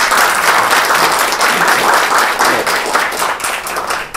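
Loud, close applause from a sizable audience, a thick continuous clatter of clapping that holds strong throughout.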